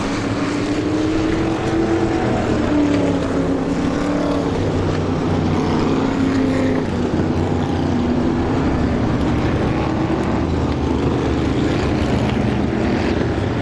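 Race cars in a stock car racing event roar through turn two together, a loud sustained engine drone with shifting pitch as the pack passes, continuous and close.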